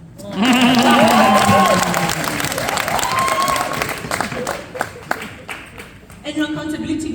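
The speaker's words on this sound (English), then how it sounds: "Please clap for me." An audience at a managers' convention breaks into loud, sustained applause with some cheering, clapping swelling then gradually thinning out over several seconds.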